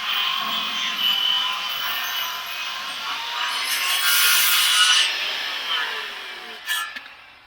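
A chainsaw cuts a milled oak slab into 4x4 beams. The cut is a loud, continuous, rasping hiss of blade through wood, swelling midway and ending with a short burst.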